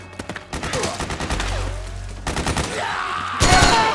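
Gunfire in Metal Gear Solid 4: bursts of automatic fire with dense, rapid repeated shots, loud and close, broken by short gaps and a heavier fusillade near the end.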